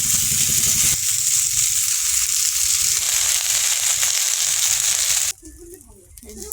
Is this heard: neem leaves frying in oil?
yes